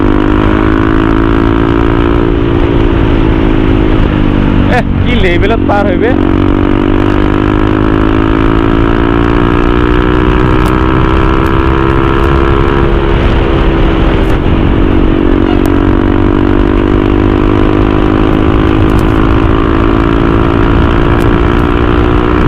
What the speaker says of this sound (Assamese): এক্সজষ্টৰ চাউণ্ডটো মানে তো কেনেকুৱা শুনে আপোনালোকক শুনাই দিম